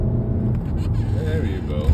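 An Alfa Romeo 147 cruising at about 30 mph and pulling weakly gives a steady low engine and road rumble from inside the cabin, with faint voices over it.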